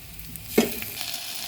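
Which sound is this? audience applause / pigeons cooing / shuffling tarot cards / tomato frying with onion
tomato frying with onion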